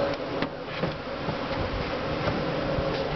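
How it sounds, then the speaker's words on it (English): Honey bees buzz steadily around an opened top bar hive, a dense close swarm drone with a few sharper passes of individual bees near the ear, continuous throughout with no speech. "Give it a good sweep to get all the bees off of it"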